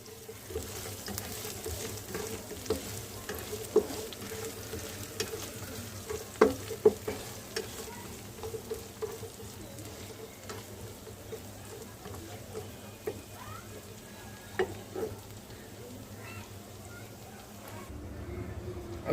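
Garlic and spice paste sizzles and fries in a pan while being stirred, a quiet steady crackle with occasional sharp scraping clinks of the utensil, and a voice speaking faintly in the background.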